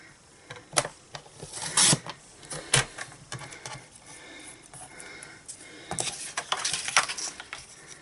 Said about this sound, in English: So now we can cut out our sentiment